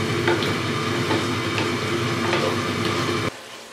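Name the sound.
stirring mutton karahi with fresh coriander in a pan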